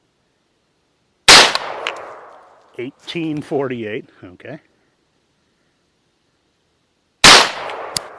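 Two sharp, loud gunshots from a 9mm carbine firing Barnes 95 grain TAC-XP +P ammunition, spaced about six seconds apart, each with a brief ringing tail, with someone talking briefly between them.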